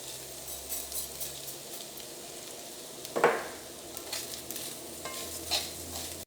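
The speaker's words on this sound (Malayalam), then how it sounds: "ആ തേങ്ങ നമ്മൾ ഇങ്ങനെ വറുത്തെടുക്കുമ്പോൾ ഒരു മീഡിയം ഫ്ലെയിമിൽ ഇട്ടിട്ട് വേണം" Coconut roasting on a medium flame and being stirred in a pan for chickpea curry, a soft steady sizzle with scraping strokes and one louder clatter midway; no talking.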